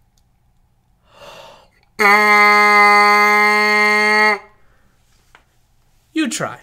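A breath is drawn, then a single steady brassy trumpet note from a beginner buzzes for about two seconds before cutting off; a brief spoken remark follows.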